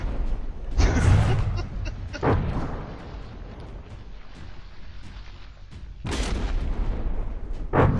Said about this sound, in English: most of the shells firing at it have landed